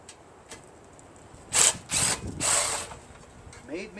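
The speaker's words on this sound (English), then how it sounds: "Made me get the impact out anyway." An impact driver works on screws of an 8 hp Tecumseh Snow King engine on a Murray snowblower, giving three short, loud bursts close by, with faint clicks before and brief talk at the end.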